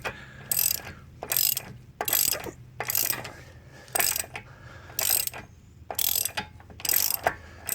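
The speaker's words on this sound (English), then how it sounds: "And I wanted to take a moment to brag on this ratchet I'm using here." A hand ratchet works a bolt on the engine mount of a 2013 Hyundai Sonata 2.4L, giving a steady run of loud, close clicking bursts, one after another with brief pauses, and no talk.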